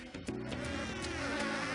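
Bees buzz steadily close by in the Donkey Kong Country cartoon, a dense continuous drone with no pauses and no voices.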